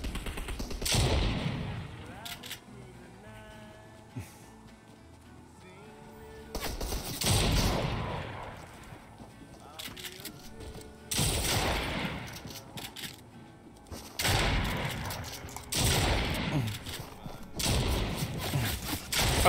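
Several loud bursts of rapid gunfire from a shooter video game come in separate volleys every few seconds, with quieter gaps of ambient noise between them.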